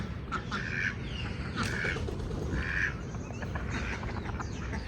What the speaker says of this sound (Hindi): तो यहाँ डक्स चेक करें पानी के साथ एंजॉय कर रही हैं।